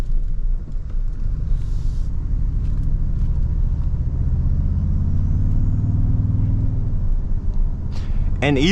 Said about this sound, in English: Sounds so much like a V8 from the inside.